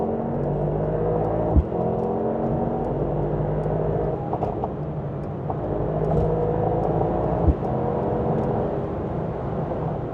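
A Mercedes-AMG GT 63 accelerates along an empty road, its engine a loud, steady low rumble and whir heard from inside the car, with a couple of faint bumps.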